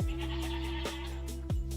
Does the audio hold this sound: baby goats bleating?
yes